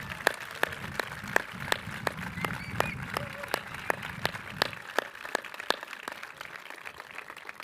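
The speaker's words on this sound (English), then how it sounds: "I would like to give the entire Board of Supervisors under the leadership of Raphael Mandelman, our board president, a round of applause" Applause for the San Francisco Board of Supervisors at the Mayor's State of the City address, sharp regular claps ringing out in a large hall with a soft crowd murmur that fades partway through.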